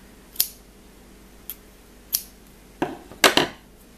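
Scissors snip a crocheted yarn end in a handful of sharp, close cuts: single clicks spaced apart, then a quick cluster of snips near the end.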